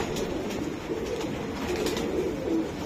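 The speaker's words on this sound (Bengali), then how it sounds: "দেখেন আপনি কবুতর গুলা দেখেন, খুবই সুন্দর" Racing pigeons coo steadily inside a loft, several birds overlapping in low, throaty rolls at moderate closeness, with soft rustling and no talk.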